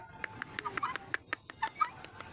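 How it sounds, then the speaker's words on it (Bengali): Guinea fowl calling nearby: a rapid run of harsh, repeated chattering calls, loud and insistent, with no speech. "তিতি মুরগিটি খুব চিল্লাপাল্লা করে"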